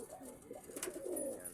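Ringneck dove cooing softly, a short low coo close by with faint background noise.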